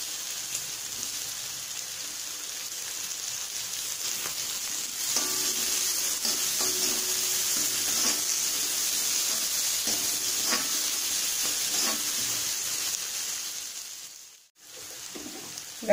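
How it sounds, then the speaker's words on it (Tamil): Onions sautéing in a pan with garlic, salt and curry leaves for a cluster beans and groundnut stir-fry: a steady, continuous sizzle with occasional stirring clicks, cutting out briefly near the end. "வெங்காயம் நல்லா வதங்கிடுச்சு"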